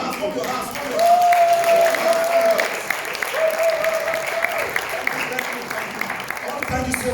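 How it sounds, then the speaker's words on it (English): A conference audience claps for the farmers, a full burst of applause swelling and then continuing steadily, while a voice carries a sustained tone over the clapping. "Let's warm our hands and clap the farmers."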